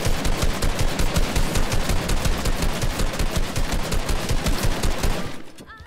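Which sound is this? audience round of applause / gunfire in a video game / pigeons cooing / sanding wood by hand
gunfire in a video game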